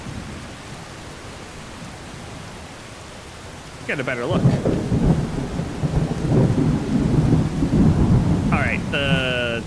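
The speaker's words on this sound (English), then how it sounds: "the thunder and sounds are getting a little crazy here" Thunderstorm ambience in the video game Skyrim at Eldergleam Sanctuary, a steady rain-and-rumble wash that swells louder midway with heavy thunder rolling under a character's brief spoken lines.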